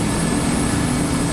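An Airbus H125 helicopter engine spins up with a loud, steady droning whine, close by, among other helicopters on a New Year's flight.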